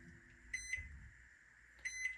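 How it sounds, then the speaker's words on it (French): Two short bursts of electronic beeping separated by a pause, over a steady low hum from a microwave oven heating an omelette. "Je vais mettre mon omelette"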